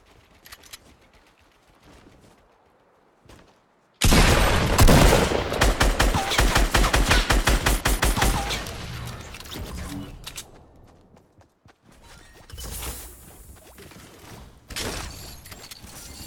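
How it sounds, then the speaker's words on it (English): Rapid bursts of gunfire in the video game Fortnite, including sniper shots, a loud sustained volley of repeated shots followed by quieter scattered shots and mechanical clicks, with someone talking over parts of it. "Someone's sniping at me."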